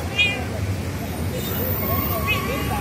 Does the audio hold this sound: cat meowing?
yes